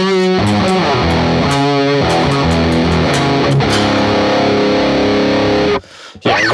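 A heavily distorted electric guitar played through the Neural DSP John Mayer X plugin chugs out punk-style chords and riffs, loud and close, before cutting off abruptly near the end.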